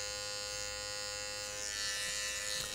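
An electric hair clipper cuts a hairline during a barber's haircut, making a steady, close, high mechanical buzz that hums without a break and swells slightly near the end.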